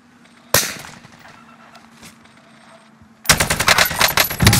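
Gunfire in a battle royale video game: one sharp shot, then quieter scattered pops, then a loud rapid automatic burst that runs to the end, close and aggressive.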